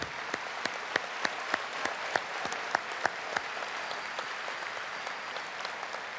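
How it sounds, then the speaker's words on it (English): Audience applause for faculty and staff at a high school commencement ceremony, with steady dense clapping and a few sharper individual claps standing out, sounding moderately distant in a large hall. "If you could give them a round of applause for all of their hard work."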